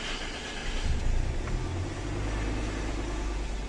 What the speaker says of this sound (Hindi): तो गाड़ी को अब मैं स्टार्ट करता हूँ